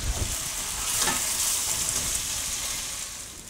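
Beef fries in a casserole, producing a dense, continuous hiss of sizzling oil that stays loud and close throughout.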